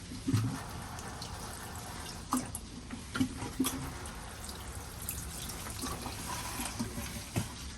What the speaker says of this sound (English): the last thing I'll do is give them a good water